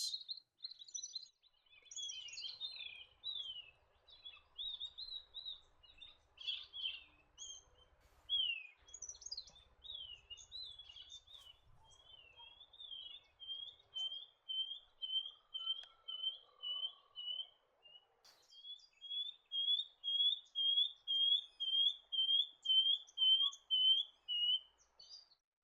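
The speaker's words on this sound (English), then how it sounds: "Shining bronze-cuckoo are found in the canopy of forest and woodlands." A shining bronze-cuckoo calls from forest or woodland canopy, giving clear, thin whistled notes repeated in steady upward-slurred series that grow louder and more regular toward the end, with no other sound around them.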